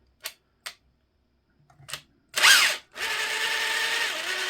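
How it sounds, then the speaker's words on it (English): After a few faint clicks, an RC car fitted with a Hobbywing QuickRun Fusion Pro motor and an ungreased transmission bursts into a harsh, loud whir. It settles into a steady, grinding mechanical whine heard up close. "it's probably going to sound a little bit grindy because I do need to grease the transmission"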